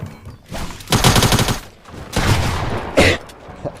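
Loud Fortnite SMG fire in rapid, closely spaced bursts, each a fast rattling stutter of shots, with short gaps between volleys and no talking.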